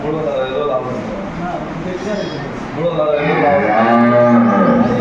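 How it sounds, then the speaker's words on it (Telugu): Cows moo repeatedly on a dairy farm of about 360 cattle; the drawn-out lowing is close and loud, overlapping with people talking nearby. "మూడు వందల అరవై ఆవులు ఉన్నాయి కదా"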